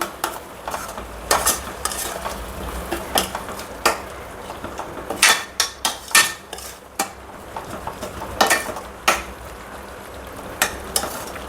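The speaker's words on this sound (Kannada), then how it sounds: "ಇದನ್ನು ಚೆನ್ನಾಗಿ ಮಿಕ್ಸ್ ಮಾಡ್ತಾ ಫ್ರೈ ಮಾಡಬೇಕು." Chickpea masala gravy stirred and fried in a pan over high flame, with repeated scraping clinks of a spoon against the pan over a steady sizzle.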